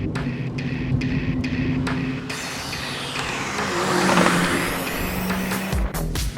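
Modified street performance car accelerating hard, its engine rising in pitch through the revs with a brief hiss and loud roaring exhaust, heard close by.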